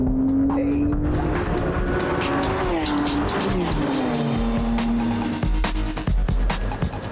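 A car engine revs hard and climbs in pitch through gear changes, loud and close, with no talking.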